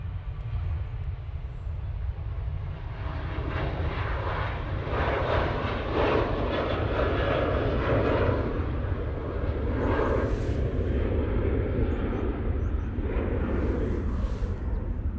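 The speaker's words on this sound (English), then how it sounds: "Ryanair now on the roll." A Ryanair airliner rolls down the runway for takeoff at Manchester Airport, bound for Krakow; a loud, steady jet-engine roar holds throughout with broad rumble and hiss, swelling slightly as it passes.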